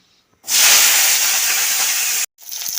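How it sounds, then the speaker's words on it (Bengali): Chopped onions dropped into hot oil in a wok, a sudden loud bright sizzle that holds steady for nearly two seconds, cuts off, then resumes more softly. "তেল গরম হয়ে গেছে এবার আমি পেঁয়াজ কুচি দিয়ে দিচ্ছি"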